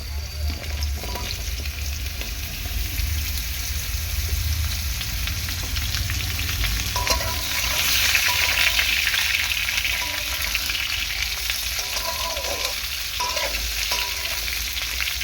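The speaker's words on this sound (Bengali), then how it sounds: "পেঁপেটাকে প্রথম 2 মিনিট একটু তেলের উপর হালকা করে ভেজে নেবো" Papaya frying in oil in a home kitchen pan, a steady loud hiss and crackle of sizzling with stirring scrapes throughout, close and continuous with no talking.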